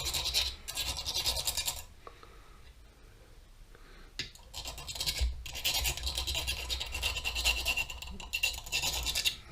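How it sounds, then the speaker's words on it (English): Tapered reamer worked by hand through a drilled hole for a #2 taper pin, producing faint repeated scraping strokes in uneven bursts with short pauses between them. "just keep running this reamer through there."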